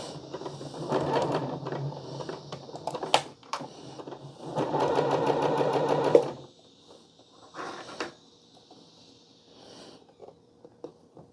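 A sewing machine stitches a hoodie snorkel hood in two steady whirring runs of fast regular needle strokes, close by, followed by quieter fabric handling and a few isolated clicks.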